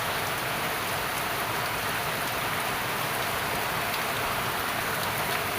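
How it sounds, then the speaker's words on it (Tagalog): Heavy rain pours down on a farm with papaya plants, a dense, steady hiss of drops striking surfaces that stays loud and unbroken throughout, with no voices. "lumalakas na naman po ang ulan"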